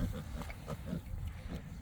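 Pigs grunting on a farm on a cold day, several low, rhythmic oinks in quick succession at moderate distance over steady background noise.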